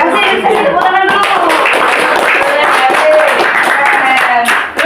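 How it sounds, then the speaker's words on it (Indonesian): Students in a group guidance session about online gaming clap their hands together, a loud, close, uneven round of claps mixed with children's voices talking and calling out over it. "Kasih tepuk tangan dulu."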